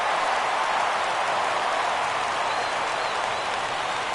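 Crowd noise in a baseball video game rises as fans get up for a full count, a steady roar of cheering and applause with no talk.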